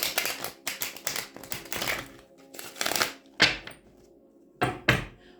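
A deck of tarot cards being shuffled, including butterfly shuffles, in quick riffling bursts, with crisp snaps and pauses between shuffles, close up and fairly loud.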